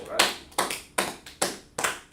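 A class claps together in five quick, evenly spaced bursts, each a crisp, loud round of hands close by.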